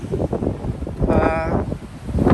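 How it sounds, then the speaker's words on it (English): Wind buffeting loudly in rough, uneven gusts, with a brief tonal whine passing through the rumble. "probably today is not the time to be going out the heads because the wind is gusting"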